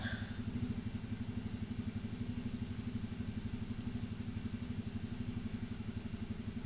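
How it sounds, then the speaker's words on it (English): A scooter engine idles and putters outside, a faint, steady, rhythmic low chugging that carries on evenly from a distance without any clear revving. "here's a local idiot who thinks his scooter sounds like a V8"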